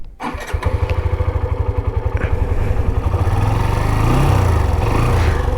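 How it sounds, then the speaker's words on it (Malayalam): A Hero Xtreme 125R motorcycle starts up and runs nearby, its single-cylinder engine settling into a loud, rapid, even idle with a light rev toward the end and no talk over it. "അൺവാണ്ടഡ് നോയ്സ് ഇച്ചിരി കൂടുതലുണ്ട് എൻജിൻ്റെ ഭാഗത്തുനിന്ന്."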